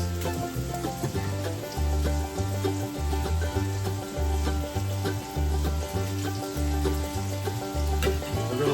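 Bacon and diced onion frying in a pan, a steady sizzle throughout with a low rhythmic pulsing beat underneath at a moderate level.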